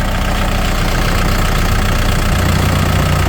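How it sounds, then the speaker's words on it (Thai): A Kubota L5018 tractor's diesel engine idles steadily up close, a loud continuous rumble with a faint knocking rhythm and no voices. "เดี๋ยวเรามาดูเครื่องยนต์กันนะครับ"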